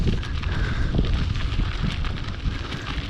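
Chilly spring wind from the east buffeting across open fields, a rough continuous rumble of gusts hitting the microphone, close and fairly loud.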